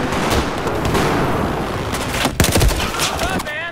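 Gunfire in the video game Battlefield 4: close, loud rapid bursts of automatic fire and sharp single shots overlapping in a dense volley, with a voice speaking near the end.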